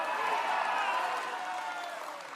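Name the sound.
audience cheering in a played recording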